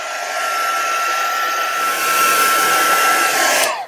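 A heat tool blows steadily to dry bleach on artwork, a loud, close whooshing hiss with a faint whine that runs continuously and cuts off at the end.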